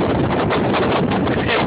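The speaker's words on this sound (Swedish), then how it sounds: "det blåser som fasiken" Strong wind buffets the microphone outdoors on a stormy day, a loud, steady roaring rush with no voices.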